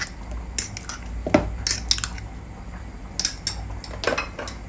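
Sauce, onion and vegetables get stirred in a pan for a chicken thigh dish, with a utensil scraping and clinking against the metal in irregular bursts, close and fairly loud, with no talking.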